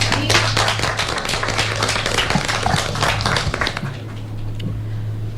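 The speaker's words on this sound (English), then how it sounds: "Let us give them a clap" An audience at a formal public gathering claps in a brisk, dense burst that holds steady for a few seconds before thinning out, with a low steady hum running underneath.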